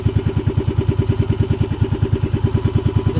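A motorcycle engine idles roughly and unevenly, a steady pulsing chug close to the listener and running alone without any talk.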